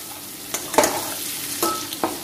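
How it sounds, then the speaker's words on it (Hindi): Onions sizzle with a little salt in a hot pan, a steady low fry broken by a few sharp scraping stirs, heard close and alone with no talk. "इसमें थोड़ा सा हाफ टी स्पून मैं नमक डाल दे रही हूँ ताकि प्याज जो है वो भुन भी जाए"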